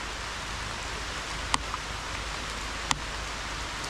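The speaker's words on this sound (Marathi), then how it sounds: "बघू शकता पाऊस पडतो आहे" Rain falls as a soft, even hiss, faint and steady, with two brief sharp drips or taps standing out, and no voices.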